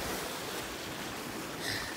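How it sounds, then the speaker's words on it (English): Ocean surf rolling in below a villa on the Jamaican coast, a steady, broad wash of waves heard from above, continuous and moderately loud with a slight swell near the end, no talking. "So that's the ocean."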